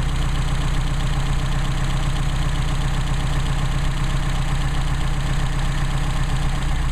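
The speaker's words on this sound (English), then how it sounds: "The engine is stumbling," Mercedes 190SL engine running on Solex carburetors while being adjusted, a continuous idle with a steady low rumble and slightly uneven pulsing as it stumbles, close and alone without talk.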